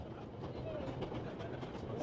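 Steady rumble of a train in the video game 11-11 Memories Retold, continuous low rolling noise with faint rhythmic clatter throughout, heard without clear speech.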